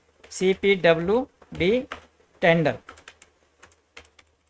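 Keys clatter on a computer keyboard, a run of quick, faint clicks that follows someone speaking and then continues sparsely on its own.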